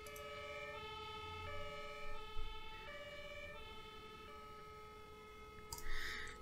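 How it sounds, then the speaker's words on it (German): A fire engine siren from a video game firefighting mod wails in a steady alternating two-tone pattern, moderately faint and continuous, with a brief thump near the end. "Ah, und mit Sirene auch, ne?"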